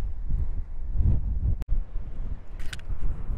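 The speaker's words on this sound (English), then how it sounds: "It's just really windy." Strong coastal wind buffets the microphone at a national park shoreline in Western Australia, a steady low roaring rumble that runs throughout with one brief dropout partway through.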